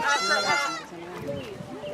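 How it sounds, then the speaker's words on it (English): Goats and sheep on a farm in America, with one loud, wavering bleat close by at the start, followed by a person talking over softer farmyard background. "We get into sheep and goat right now."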